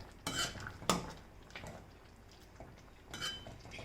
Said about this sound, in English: So just give it a quick stir.